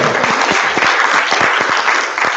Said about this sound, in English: But applause again.